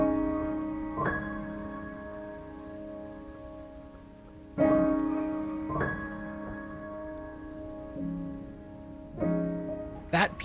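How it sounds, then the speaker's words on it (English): Soft video game soundtrack music: sustained piano chords struck every few seconds, ringing and layered with gentle synth tones, calm and fairly quiet throughout. "That piano just sets the mood perfectly, building into the subtle synth tones"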